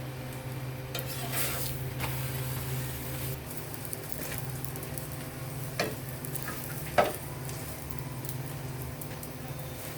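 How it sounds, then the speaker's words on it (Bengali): A sweet potato and chicken keema paratha fries in a pan with a low, steady sizzle and hum, punctuated by an occasional faint scrape or clink of a utensil. "আমি একটু লাল লাল করে ভেজে নিব এভাবে করে আমি সবগুলো পাটা ভেজে নিব"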